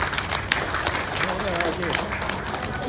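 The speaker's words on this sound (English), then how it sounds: "Mr. Lim and Mr. Fat, give them a big applause." Guests at a plastics company's annual dinner clap together in a dense, lively round of applause, with voices and chatter mixed in throughout.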